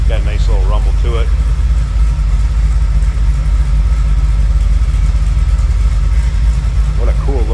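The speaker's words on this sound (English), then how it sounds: "you turn that key and it lights up and got a nice little rumble to it" A 1964 Ford Thunderbird convertible's V8 gives a steady, low idle rumble throughout, with someone talking briefly at the start and again near the end.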